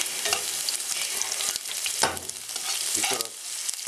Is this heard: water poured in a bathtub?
no